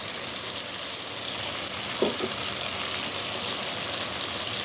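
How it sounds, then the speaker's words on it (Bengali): Taro cooking down with spices in oil in a pan, a soft steady sizzle with faint crackle throughout and a small clatter near the middle. "গাঠি কচুটা একদম মশলা দিয়ে কষানো হয়ে আসছে, এই যে তেল ছেড়ে দিয়েছে"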